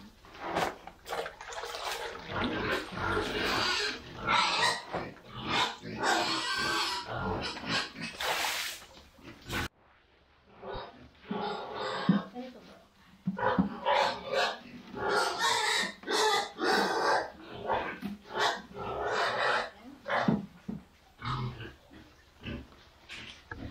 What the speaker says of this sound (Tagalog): My baboy is very noisy, so just give them to make quiet.